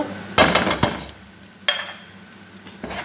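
Onion, chili, garlic and turmeric stir-fried in a pan for an eggplant fry: a couple of bursts of scraping and sizzling, with a soft frying hiss between them.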